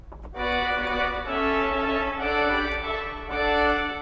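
A clarion 4 reed stop on an Austin pipe organ sounds bright, brassy sustained notes in two held chords with a short pause between, close and loud with no talking.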